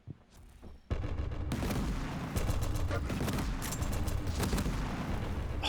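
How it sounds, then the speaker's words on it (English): Tri-bolt weapon fire in a Quake Pro League match sounds as a dense, loud, continuous barrage of blasts and explosions that starts abruptly and roars on without letting up. "Oh, that tri-bolt has done a lot of damage."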